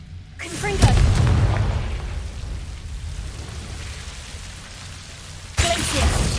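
Confringo fire curse blasting in the Hogwarts Legacy video game, heard as a sudden booming burst with a crackling rumble that fades to a low roar before a second blast hits near the end.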